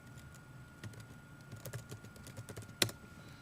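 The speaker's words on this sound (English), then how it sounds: "I'm going to type in Eco-Architecture." Quick, light typing on a computer keyboard, scattered clicks and taps in uneven bursts with one sharper key strike near the end, quiet and close.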